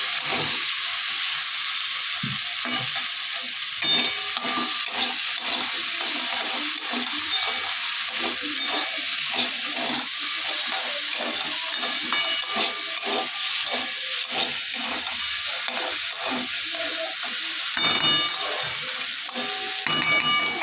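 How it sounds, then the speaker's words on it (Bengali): Bori, small lentil dumplings, fry in a pan of mixed vegetables for helencha shukto, giving a continuous close sizzle and hiss dotted with soft stirring scrapes and clatters throughout. "এবার দিয়ে দিচ্ছে দেখো বড়ি বড়ি একটু মেরে নিয়ে"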